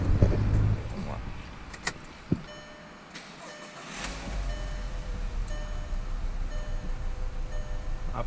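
A car engine is started after two ignition coils were replaced, with faint clicks and a short quiet pause before the engine catches and settles into a steady low idle.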